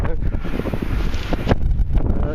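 Strong wind buffets a microphone outdoors on a rainy day of metal detecting in the UK, a loud continuous rumbling roar with gusts that swell and fade.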